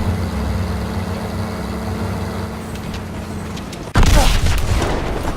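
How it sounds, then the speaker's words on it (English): A grenade blows up in the World War II shooter Call of Duty: WW2, a sudden loud broadband blast cutting in over steady rumbling engine and battle noise, then a sustained roar of debris as the scene continues. "Grenade!"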